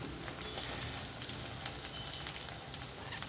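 Chopped onion pieces fry in a pan with green chillies, a dense, steady hiss and crackle heard close up and alone, with scattered sharper pops throughout.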